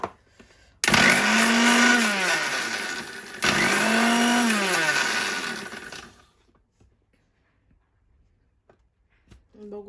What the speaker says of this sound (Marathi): आता हे सुद्धा आपण मिक्सरमध्ये बारीक करून घ्यायचं आहे